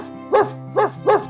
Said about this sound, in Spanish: el peor perro guardián del mundo se puso a ladrar con fuerza